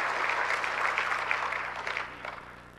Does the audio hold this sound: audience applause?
yes